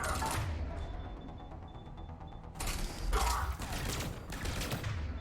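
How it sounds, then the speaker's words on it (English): Gunfire aimed at a turret during combat in Mass Effect 3, with bursts of rattling shots and mechanical clatter coming in waves over a low game rumble. It is fairly quiet overall, and no one speaks. "I'll just shoot the turret."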